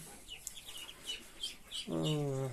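A Muscovy duck gives a few short calls followed by a louder, drawn-out nasal call with steady harmonics, heard up close with no talking.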